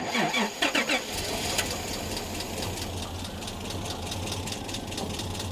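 Nissan Patrol engine running on LPG cranks in a few quick bursts, then catches and settles into a loud, steady, slightly rough running drone with a low throb throughout.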